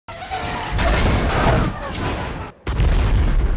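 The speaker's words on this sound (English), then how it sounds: "No one could survive such a crash and explosion." Starship crash and explosion in a Star Wars film: a loud, sustained roaring blast with heavy low rumble, briefly cutting out before a second surge of booming debris.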